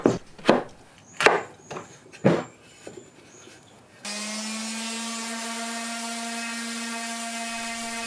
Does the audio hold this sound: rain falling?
no